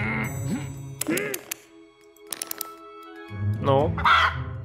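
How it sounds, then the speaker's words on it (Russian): A chicken squawks in the video game Lost in Play, with loud, cackling, quacky calls in bursts at the start and end, broken by brief electronic tones and clicks. "Так, курица кричит, замечательно"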